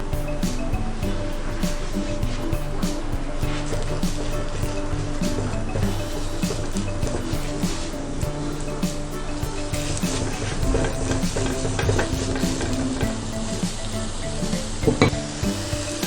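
Minced meat for turmeric fried rice drops into a hot pan and fries with a steady, close sizzle, with an occasional clink of a utensil against the pan.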